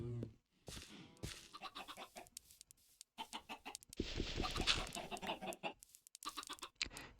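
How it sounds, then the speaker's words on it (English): Chickens in Minecraft cluck repeatedly in close, overlapping bursts, with short quiet gaps between clusters of calls. "I'm going to release the chickens"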